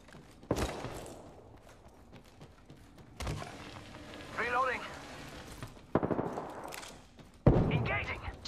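Gunfire in a video game shooter: several sharp, loud bursts spaced a few seconds apart, with rumbling decays between them. A voice speaks briefly in the middle.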